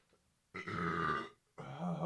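A loud, drawn-out human burp lasting about a second, followed after a short pause by a second burst of sound, all in a quiet podcast setting.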